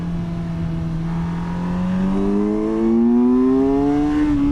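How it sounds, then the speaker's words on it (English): A 2025 Kawasaki Versys 1100 SE LT motorcycle engine drones steadily, then its pitch climbs gradually as the bike pulls in a low gear, heard close and alone without talk. "There's a downshift into first."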